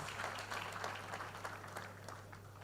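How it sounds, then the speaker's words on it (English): An audience at a broadcast media conference applauds: a steady wash of clapping from many hands that holds at an even, moderate level for a few seconds, with a low steady hum underneath and no clear speech. "clap for her"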